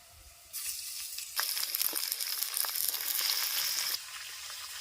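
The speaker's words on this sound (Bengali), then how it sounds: "পেঁয়াজটা আমার লাল লাল করে ভাজা হয়ে গেছে এর ওপর মাংসটা দিয়ে দেবো" Meat hits a pan of browned fried onions, bursting into a loud, close sizzle that swells after a quiet start, holds steady with crackles, then eases slightly near the end; no talking.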